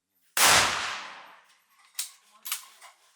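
Soldiers' weapons fired at a shooting tournament: one sharp, loud nearby gunshot with a long decaying echo, followed by two fainter distant shots.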